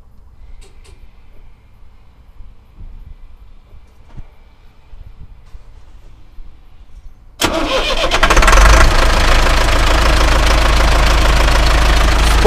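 A MAZ 4370 diesel truck engine cranks and catches, then runs loud and steady at idle for several seconds after a quiet stretch.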